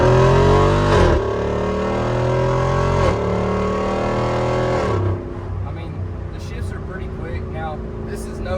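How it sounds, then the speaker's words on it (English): A Jeep Wrangler JL Rubicon 392 engine revs hard and loud, its pitch sweeping up and down through downshifts, then settles into a lower rumble with some faint chatter. "All right, so right here, I'll downshift. You can hear it."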